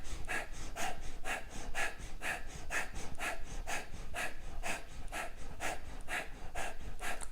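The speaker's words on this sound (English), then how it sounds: "Every time you reach up, you exhale." Rhythmic exhaled breaths during a yoga staff pose, about a dozen steady, close breathy puffs repeating roughly every half second with no talking.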